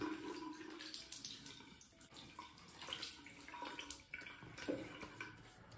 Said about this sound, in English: Right, just rinse the face and apply that second lather.